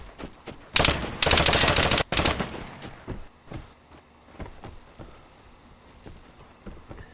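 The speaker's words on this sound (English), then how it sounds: "So now he's getting shot. Or I'm sorry, I'm getting shot." Gunfire in Vigor: a few sharp shots, then a dense rapid automatic burst, followed by scattered single cracks and softer impacts spreading out over several seconds.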